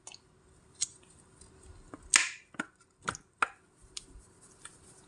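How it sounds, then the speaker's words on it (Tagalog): A spoon stirs yogurt through a cucumber salad seasoned with garlic, mint powder and salt, making faint, irregular wet clicks and squishes close by, with no talking. "Tapos ihalo na natin yung ating yogurt."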